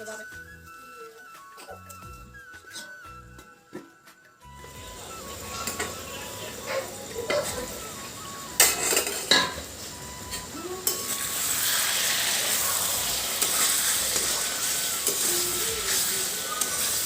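Meat fries in a pot over a medium gas flame and is stirred, first a few scraping touches, then a building steady sizzle and hiss with clanks of the spoon, under occasional talk.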